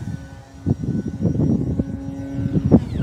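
Arrows Bigfoot 1.3m RC plane flying at full throttle, a steady engine drone that swells and fades with short louder passes, heard alone without talk.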